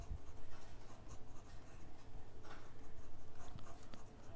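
Pen writing out a math integral solution, a steady scratching of strokes on paper heard close up, continuous and fairly even, with no talking over it.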